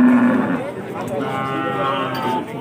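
Goats at a livestock market ahead of Eid al-Adha, some of them fat ones, give a loud bleat at the start and then more calls over a background of voices and market bustle.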